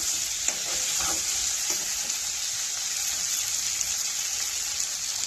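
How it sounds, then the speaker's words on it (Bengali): Potatoes sauté in a pan with a constant crackling sizzle, while a spatula scrapes and stirs a few times early on. "আমার এখানে আলুগুলোকে কষাচ্ছি"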